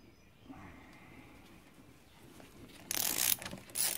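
Bolts on the crank bearing caps of a Toyota RAV4 engine being undone with a ratchet, a quiet low rumble giving way to two loud bursts of ratcheting clicks near the end, close up.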